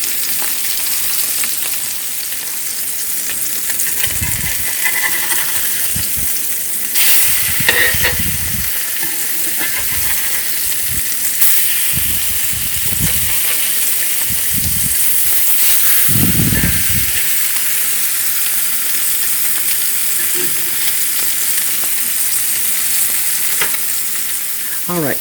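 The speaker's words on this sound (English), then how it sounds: "So we just want to brown these on both sides until the fish is done." Flounder fillets fry in a pan with a continuous close sizzle and hiss for about twenty-five seconds, broken now and then by short scrapes and stirring sounds, with no talking.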